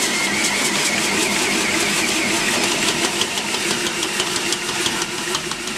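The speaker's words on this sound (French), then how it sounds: "Et je vais faire tourner ça en 2e vitesse 6 minutes." A bread machine kneads dough at second speed, a loud steady mechanical motor drone with a faint rhythmic knocking, continuous and close throughout.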